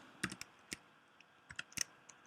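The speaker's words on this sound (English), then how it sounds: "just type down those values" Values are typed on a computer keyboard while working in an Excel spreadsheet, a short run of light, close key clicks in an irregular rhythm.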